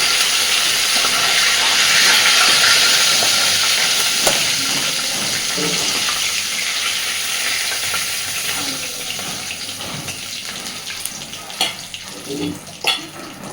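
Fish pieces frying in hot oil for a fish curry with potato and eggplant, a loud, steady hiss of sizzling that eases slightly, with occasional clatters and scrapes of handling near the end.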